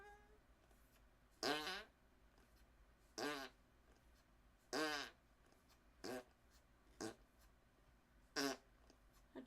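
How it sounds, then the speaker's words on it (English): A fart bag toy is squeezed to make about seven short, squeaky, rasping fart noises spaced a second or so apart, fairly close against a quiet background. "I brought my fart bag with me to make some amusing fart sounds."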